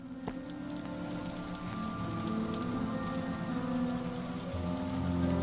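Steady rain patters on a surface throughout in the video game The Stillness of the Wind, with a low tonal hum running underneath and no talking.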